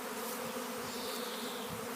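A dense swarm of honeybees hums steadily around a swarm trap set low to the ground rather than up in a tree, a continuous close, loud drone with no pauses.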